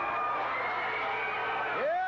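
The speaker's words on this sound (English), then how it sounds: "The crowd begins to yell, Bubba, Bubba, Bubba." Wrestling arena crowd yelling and cheering for the wrestler Big Bubba, a dense steady roar of many voices throughout, with a rising whoop near the end.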